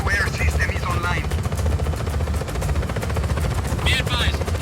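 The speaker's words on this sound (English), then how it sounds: "Be advised, target is a helicopter." A helicopter in the Just Cause 4 video game thrums loudly and continuously alongside gunfire, with game radio voices talking over it.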